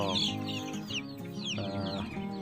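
Young layer chicks and a few ducklings in a chick nursery pen, chirping and clucking continuously at close range with overlapping high peeps throughout.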